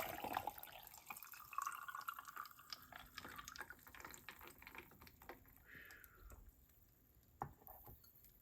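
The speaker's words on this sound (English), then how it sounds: "And now let's pour the tea." Tea trickles and splashes faintly into a glass, a quiet liquid pour with scattered small clicks and knocks close by.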